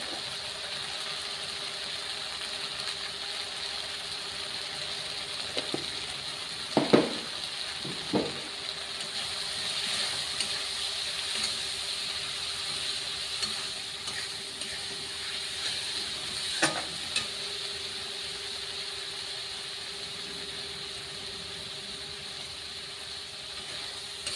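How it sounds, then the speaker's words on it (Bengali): Bengali-style spice paste made with turmeric and salt cooks in oil for a rui fish curry after a splash of water is added. A steady steamy hiss runs throughout, with a few scattered scraping stirs, and there is no speech. "সামান্য জল দিলাম, দিয়ে মশলাটাকে ভালো করে কষিয়ে নেব"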